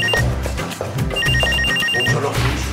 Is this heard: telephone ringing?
yes